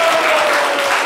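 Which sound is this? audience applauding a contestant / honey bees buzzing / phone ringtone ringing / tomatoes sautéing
audience applauding a contestant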